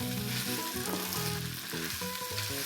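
Kimchi juice and rice sizzle in a hot pan with a dense, steady frying hiss and faint stirring, close and uninterrupted, with no voices.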